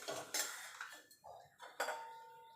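Whole cumin seeds stirred in a pan while cooking dal, with several clinks and scrapes of a utensil against metal, close and moderately loud, spaced irregularly with no talking.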